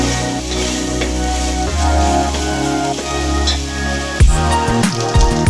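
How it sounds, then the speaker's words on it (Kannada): Ginger garlic paste fries in oil for a chicken gravy, giving a loud, steady sizzle with crackling spatter and occasional stirring scrapes near the end, with no talking. "ಇದು ಶುಂಠಿ ಬೆಳ್ಳುಳ್ಳಿ ಪೇಸ್ಟು ಚೆನ್ನಾಗಿ ಫ್ರೈ ಆದಂಗೆ"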